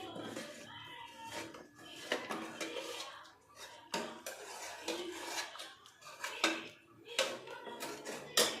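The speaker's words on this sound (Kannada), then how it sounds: "ಈಗ ಸ್ವಲ್ಪ ಟೊಮೊಟೊ ಎಲ್ಲ ಹಿಂಗೆ ಸ್ಮ್ಯಾಶ್ ಮಾಡ್ಕೋಬೇಕು" Cooked tomato is mashed in a pot with the cooked lentils of a radish and lentil sambar, heard as repeated metal scrapes and knocks of a utensil against the pot, with a voice talking quietly between them.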